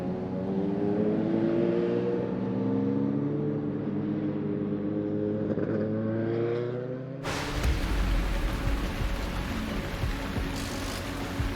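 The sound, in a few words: BMW 3.0 CSL and Ford Capri RS racing in heavy rain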